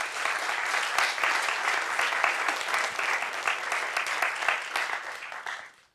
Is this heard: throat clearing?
no